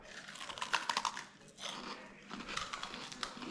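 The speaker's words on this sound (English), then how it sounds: "Oh yeah, I hear the crunch." Crunchy freeze-dried frog candy chewed close up, a run of sharp crisp crunches and bites in quick irregular bursts, quiet and isolated with a brief pause midway.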